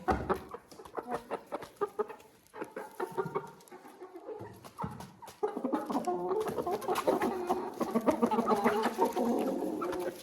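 Chickens clucking inside a backyard coop, a steady chorus of overlapping clucks and cackles, fairly close, getting busier and denser in the second half, with no talk.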